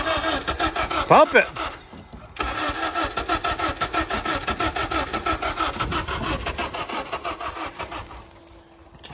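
A 2009 Honda Civic being jump-started catches briefly with a rough burst, then the starter keeps cranking in a fast rhythmic chug that slows and fades as the battery weakens. A voice speaks briefly near the start.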